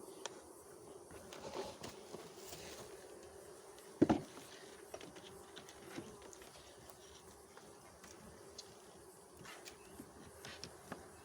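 Faint, steady buzzing of many calm honeybees at an open hive fills the background, with a few soft knocks and one sharper click partway through.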